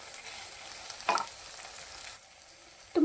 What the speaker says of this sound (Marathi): थोडासा सब्जी मसाला टाकून घेऊया आणि मस्त फ्राय करून घेऊया